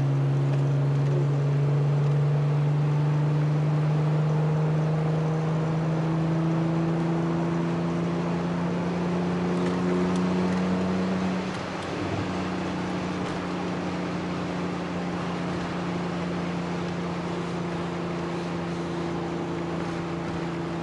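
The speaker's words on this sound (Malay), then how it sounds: "Bunyi macam V8. Tapi saya bukan V8, i6 je ni." A simulated inline-six car engine in a racing game holds a steady, droning low harmonic hum throughout, dipping slightly midway before settling back into a constant cruise, with no voices.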